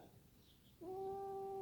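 A cat upset at being touched on its backside lets out one sustained, rising meow close by, loud and drawn out after a quiet moment.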